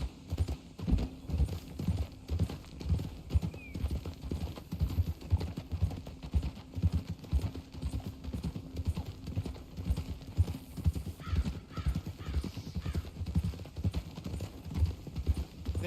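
A horse's hooves clip-clop in Red Dead Redemption 2, a steady rhythmic trotting beat that continues throughout at moderate loudness with light background ambience.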